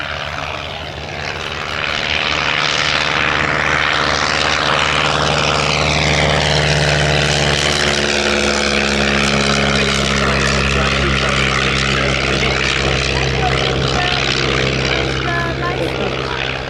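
Pitts Model 12 aerobatic propeller aircraft flying at a vintage airshow, its engine a loud continuous drone with shifting pitch as it passes, under a commentator's voice throughout.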